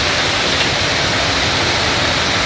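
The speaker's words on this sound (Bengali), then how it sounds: "অনেক জোরে বৃষ্টি হইল আজকে" A heavy downpour, a loud, unbroken rushing hiss that stays even and close throughout, with no voices over it.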